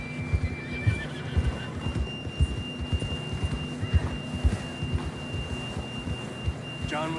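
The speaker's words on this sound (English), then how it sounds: "John was riding that horse when we left Blackwater" A horse whinnies in the video game Red Dead Redemption 2 against a rumbling backdrop of hoofbeats and low throbbing, with a steady tone running underneath.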